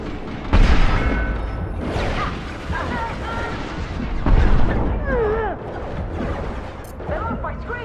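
Gunfire in the Mass Effect 2 video game: a few sharp, heavy shots and booms punch through a busy battle mix, with characters' voices calling out between them.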